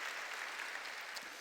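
A church congregation clapping during a sermon, a brief, dense wash of many hands applauding, fairly faint and at a distance, with no talk over it.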